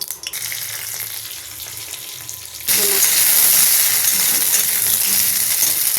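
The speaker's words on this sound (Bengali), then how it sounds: "কড়া গরম হয়ে গেছে, এবার আমি একটু সরষের তেল দিলাম, খুব অল্প তেল।" A small amount of mustard oil hits a hot wok (kadai): a quieter stretch, then a sudden loud, bright sizzle that holds steady and close to the end.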